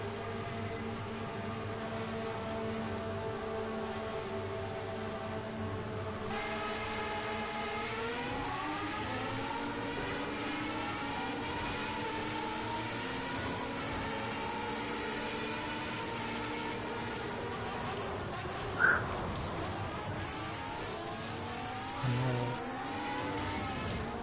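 A game race car engine drones steadily throughout, its pitch rising and falling as it revs through gears, with a brief bump near the end.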